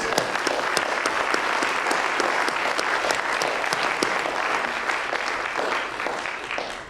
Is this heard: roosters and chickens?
no